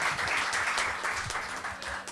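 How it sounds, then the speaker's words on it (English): Round of applause from an audience at a literature and art festival session, a steady wash of many hands clapping for about two seconds with no speech over it. "Can we give them a huge round of applause again?"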